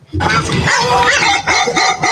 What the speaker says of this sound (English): Some dogs.